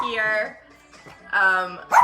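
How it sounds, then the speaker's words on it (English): Two separate bursts of a dog barking with a slightly whining, voice-like tone, fairly close and loud, with a quiet pause in between. "dog barking"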